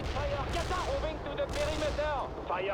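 Gunfire from the World in Conflict: Soviet Assault video game, a dense steady wash of shots and explosions under music, with game voice chatter running throughout.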